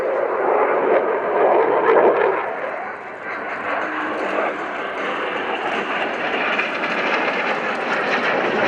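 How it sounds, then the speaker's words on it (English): An aircraft flies inverted at the RIAT Fairford airshow, its engine a broad continuous roar that swells near the start and then holds steady at a moderate distance for the whole stretch. "Upside down for an inverted flight."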